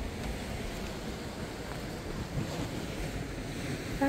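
Steady wash of sea waves and surf with wind rumbling across the microphone, continuous and fairly loud, no voices.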